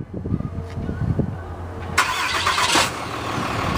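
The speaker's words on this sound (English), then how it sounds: "Diesel's gonna start up for you." Diesel pickup truck started by remote start: quiet clicks and rustling at first, then the engine cranks and catches with a burst of noise and settles into a steady, fairly close idle rumble.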